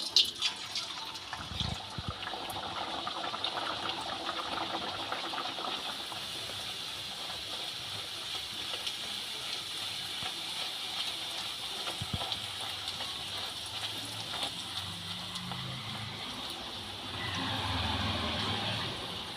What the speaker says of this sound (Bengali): এবার কড়াইশুটি কচুরিগুলো ভেজে নেব